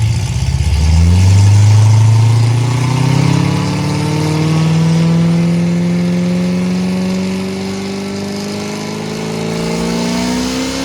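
A Corvette Z06 C6 carrying 300 kg of ballast revs hard with wheel spin, its loud V8 engine note sweeping steadily upward in pitch for several seconds, close and alone.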